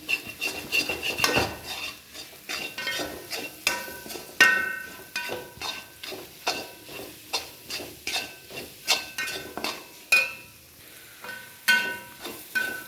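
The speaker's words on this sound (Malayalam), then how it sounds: "ഇങ്ങനെ ഇളക്കിക്കൊണ്ടിരിക്കണം" A spoon scrapes and clinks repeatedly against a pan while a masala curry, made without chilli, is stirred. The knocks come in an irregular, steady rhythm, close and fairly loud.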